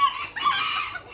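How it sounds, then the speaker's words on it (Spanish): A young hen at a miniature rooster breeding farm gives a short, close cluck-and-squawk call lasting about a second, with no talk over it. "Algunas gallinitas."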